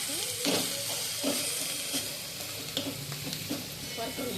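Mung dal fried with fenugreek in a pan, a continuous sizzle broken by repeated scraping strokes of a spoon as it is stirred, close and steady.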